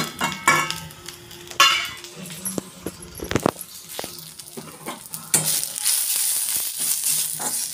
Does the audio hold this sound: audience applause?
no